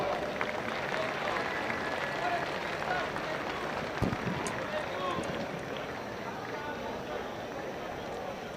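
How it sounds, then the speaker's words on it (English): A crowd at a high school football game applauds and claps in a steady patter, moderately distant, fading slightly toward the end, with voices over it. "let's give the committee another round of applause"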